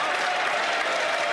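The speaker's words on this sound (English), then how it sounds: "then the Conservatives get up and start clapping" Applause from Conservative members in the House of Commons during Question Period, a dense, steady wash of many hands clapping that fills the chamber without a break.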